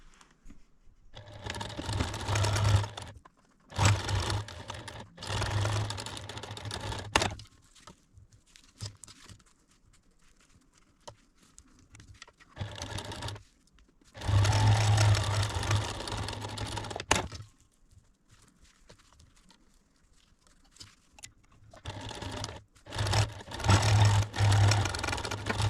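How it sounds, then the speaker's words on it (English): Sewing machine stitching along the edge of a potholder, close and steady, running in several long bursts with brief stops and low handling noise between. "and I'll show you that as I'm sewing."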